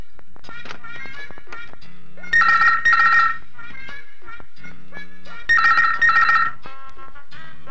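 A telephone rings in two bursts of repeated electronic trills, with quieter clinking and background noise between the rings.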